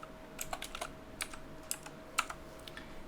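Code being typed on a computer keyboard during a GoLang programming lesson, a quick irregular run of light key clicks, close and fairly quiet, with no talking.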